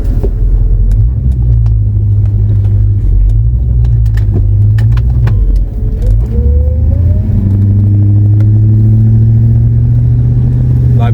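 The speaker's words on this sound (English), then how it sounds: "I may need to change the steering pump, hydraulic pump, because it's a bit noisier than my old one" Idling car engine with a noisy hydraulic power steering pump, after a harmonic balancer replacement for vibration: a loud, close, steady low drone with a whining tone that rises and shifts partway through.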